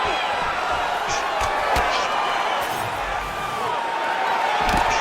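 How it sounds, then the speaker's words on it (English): A large arena crowd in the video game EA Sports UFC 5 roars and murmurs continuously at a punch, with scattered whoops and a sharp thud, while an excited voice talks over the noise. "that punch, listen to the reaction from the crowd"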